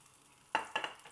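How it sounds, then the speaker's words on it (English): Butter browning in a pan crackles and spits in a few short bursts after a quiet start, the pops close and fairly faint. "right now you can hear noise because butter has water in it"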